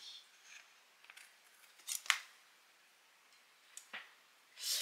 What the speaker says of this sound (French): je vais venir couper le surplus en faisant attention de ne pas couper la carte